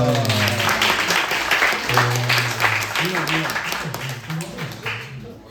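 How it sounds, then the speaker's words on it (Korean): Audience applause and clapping at a high school youth church worship service, lively and continuous, with voices talking and calling out over the clapping. "박수 부탁드리겠습니다."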